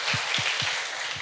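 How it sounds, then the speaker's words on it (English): Applause from a conference audience at a livestreamed blockchain event, a dense hiss of many hands clapping with a few louder near claps standing out in a steady rhythm. "Warm applause for them, please."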